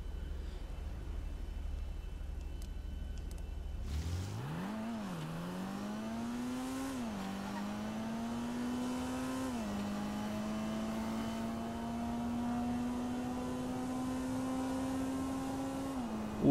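The Toundra Panthere in GTA Online pulls away and accelerates hard, its engine note climbing through the gears with short dips at each shift, then holding a long steady high-revving pitch, loud and close.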